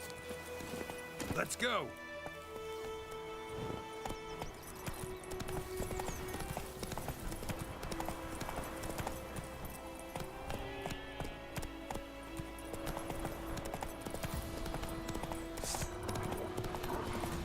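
Roach the horse galloping in The Witcher 3, rhythmic hoof clip-clops running steadily throughout, mixed with game music and someone talking over it.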